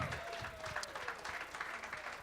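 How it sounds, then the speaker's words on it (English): Audience applause closing a live show, a steady wash of clapping from a crowd that runs throughout, with a faint voice underneath. "one more round of applause for Brian Butch tonight."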